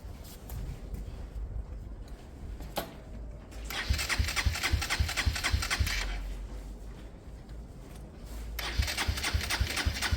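An engine fitted with a Hanway carburettor conversion cranks and turns over in rough bursts, sputtering and catching intermittently with brief louder surges, close by and moderately loud, with no voices.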